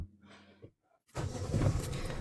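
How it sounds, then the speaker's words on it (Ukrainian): A car engine starts after a short quiet pause, catching with a low rumble that settles into a steady idle close by. "Зараз я заведусь. 5 минут прогрію, поїдемо."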